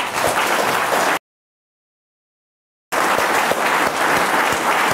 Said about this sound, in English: give a huge round of applause to our panelists